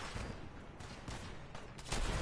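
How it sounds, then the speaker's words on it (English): Explosions and gunfire in the Fallout video game: a dull, muffled barrage of rumbling blasts and rattling shots, fairly quiet and continuous, with a heavier burst near the end. "Alright, well those are explosions."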